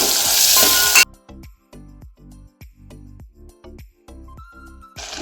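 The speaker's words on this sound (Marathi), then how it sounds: "इथं यामध्येच हिंग घालूया कापलेल्या तेलावर डायरेक्ट हिंग घातला तर आपला तेल म्हणून आपण नंतर घातलं आहे आणि हे बटाटे परतून घेऊया" Potatoes sautéed in hot oil with asafoetida, cooked for a traditional Konkan masala curry: a loud burst of sizzling, then a series of regular clinking stirs against the pan with quieter frying beneath.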